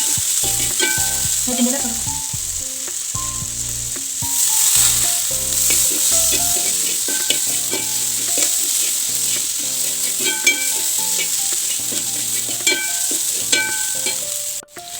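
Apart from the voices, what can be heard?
onions and tomatoes frying in a pan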